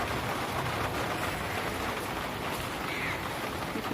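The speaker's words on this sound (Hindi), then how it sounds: "बहुत तेज़ बारिश यहाँ पर हो रही है।" Heavy morning rain pours down outdoors, a steady dense hiss of drops with no break and no talk throughout.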